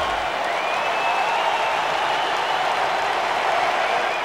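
A capacity arena crowd at a UFC heavyweight event roars in a steady, dense wash of cheering and applause that holds at full loudness throughout, with no clear talk above it.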